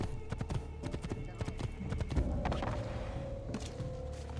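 Horse hooves clip-clop in a steady rhythmic gait in the video game Assassin's Creed 2, moderately close, with no talking over them.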